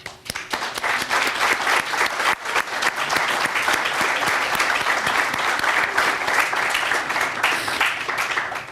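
An audience at a public event on security, criminal justice and governance gives sustained applause to welcome speakers, dense steady clapping from many hands filling the room for several seconds.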